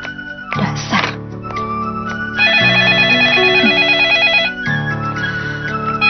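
A telephone rings in an Indonesian mystery film: a bright, warbling electronic ringtone with a fast trilling pattern, fairly loud and clear over a low tonal background, with brief other sounds before it starts.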